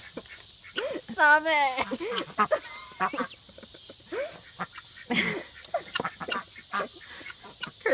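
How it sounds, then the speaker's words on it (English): Ducks and guinea fowl call excitedly at feeding time, a busy run of quacks and squawks close by, with someone repeatedly speaking over the birds. "This is what happy ducks sound like."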